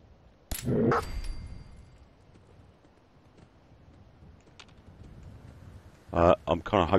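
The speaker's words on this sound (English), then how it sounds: "I'm kind of hoping that was my dog growling" Companion dog in the video game Fallout 4 gives a couple of short, loud barks or growls early on, followed by quieter game ambience and a later burst of louder clatter; someone talks in the clip.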